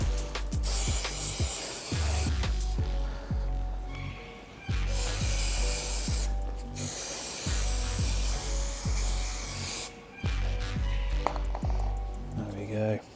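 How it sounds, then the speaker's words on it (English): Repeated bursts of aerosol spray adhesive hissing loudly on a Superdry sponge, several long sprays separated by short pauses, with clicks and handling noises throughout. "I'm just going to spray this one also."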